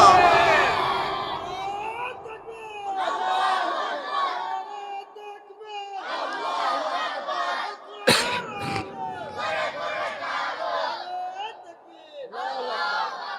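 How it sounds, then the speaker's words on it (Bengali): A large crowd at a rally chants the slogan Naraye Takbir in repeated loud bursts with brief pauses between them, with shouting and one sharp clap or thump partway through. "সেখানে আজকে নারায়ে তাকবীরের আওয়াজ শুরু হয়ে গেছে"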